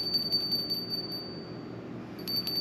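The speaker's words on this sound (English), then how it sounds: "I just wanted to ring that bell real fast" A small ritual bell rung a few quick times during a witchcraft smoke divination, its high clear tone sounding in short bursts near the start and again at the end over a low room hum.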